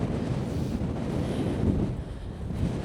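Strong wind at a cliff edge in Iceland buffets the microphone in a steady, loud roar, with a faint wash of distant surf beneath it.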